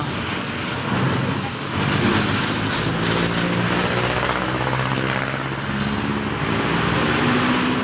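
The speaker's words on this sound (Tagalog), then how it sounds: "lahat yung iingay ng mga sasakyan" Loud, dense street traffic in Binondo, Manila, during a fire, a constant roar of cars, buses and trucks idling and moving close by, with a faint hiss of air brakes and no clear voices.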